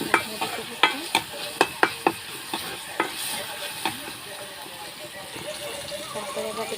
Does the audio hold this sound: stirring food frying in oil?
yes